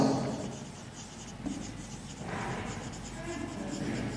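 Marker or chalk writing on a board during an English grammar lesson, scratchy strokes at moderate volume, interrupted by short pauses.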